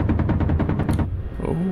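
A rapid burst of helicopter gunship cannon fire in the DCS flight simulator game, about a dozen heavy evenly spaced shots in quick succession, loud and close, followed by a low engine hum.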